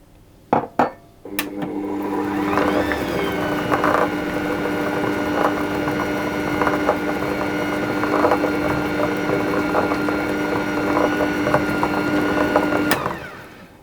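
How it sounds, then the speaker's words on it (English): A stand mixer runs slowly and steadily, folding sultanas and walnuts into a cornmeal cake batter, with a continuous motor hum and low churning that starts after a couple of knocks and stops near the end. "I'm just going to let that mix very slowly until they're mixed all the way through as well"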